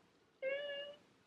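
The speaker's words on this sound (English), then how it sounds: "You hear my cat?" A house cat gives a single clear, sharp meow lasting about half a second, close and loud against a quiet room.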